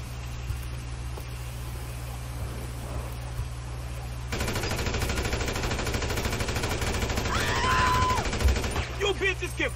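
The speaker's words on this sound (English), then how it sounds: "Let me just shoot this policeman." Gunfire in the video game GTA V with the ShieldMod script mod, a loud rapid machine-gun-style burst of shots over steady game ambience, growing busier and denser midway with a few sharp impacts near the end.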